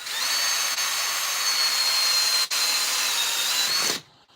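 Power drill boring into wood during carving, a steady high whine held for about four seconds with a brief dip midway, then cutting off abruptly.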